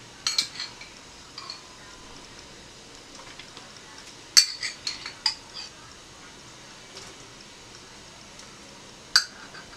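Spoon scraping and tapping against a bowl while adding chopped garlic for a seafood boil, scattered faint clinks with a few sharper knocks near the middle and end, close and quiet.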